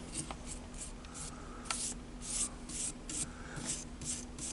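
A dry brush scrubs paint onto the raised parts of a model railway rock face in quick, soft bristle strokes. The close, faint rubbing repeats steadily, with no talking.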